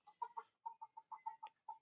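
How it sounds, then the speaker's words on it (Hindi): A rooster in an Indian village gives a rapid series of about a dozen short, clucking calls, close and clear against a quiet background. "मुर्गा देखिए उधर घूम रहा है।"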